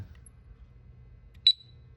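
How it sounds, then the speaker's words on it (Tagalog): A Kovix anti-theft disk brake lock on a Yamaha NMAX V2 scooter gives one short, sharp electronic beep partway through, over a faint low background hum. "yun na yung alarm niya."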